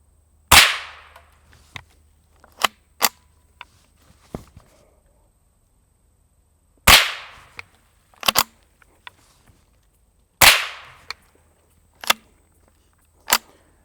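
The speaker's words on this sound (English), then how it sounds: "you have that sonic crack, which is the much louder portion of the setup overall" Three sharp, loud sonic cracks from a suppressed bolt-action rifle spaced several seconds apart, each followed by mechanical clicks and clacks of handling in a quiet setting.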